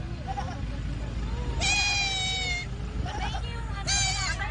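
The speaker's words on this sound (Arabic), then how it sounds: "معزة صغيرة ضايعة يعثر عليها قطيعه ويعود إلى والدته" A small lost goat bleats two or three times in high, wavering cries as its herd finds it, with a background of lower animal sounds and steady noise.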